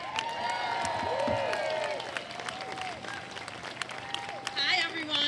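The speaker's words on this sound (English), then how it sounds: "Please give her a round of applause." A rally crowd claps and cheers for a speaker at a May Day march in Richmond, Virginia, loud at first and then easing, with a few scattered voices and whistles.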